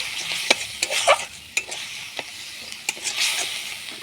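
Spice masala with tomato is stir-fried in a pan, a soft sizzle under a series of sharp spatula scrapes and taps spaced unevenly, close and clear.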